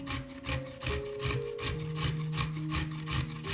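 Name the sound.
grating a carrot on a coarse grater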